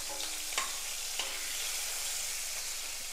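Curry leaves and slit green chilies frying in hot oil in a pan for butter bean kurma, a steady close crackling sizzle with a couple of soft spoon taps on the pan.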